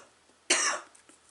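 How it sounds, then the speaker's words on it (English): A single sharp cough bursts out during a quiet scrapbooking session, brief and close, followed by faint rustling. "Oh, please excuse my coughing."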